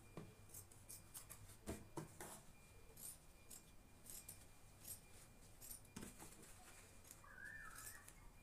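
Scissors snip notches into sewn fabric in short, crisp cuts spaced irregularly, quiet and close, with faint bird calls in the background.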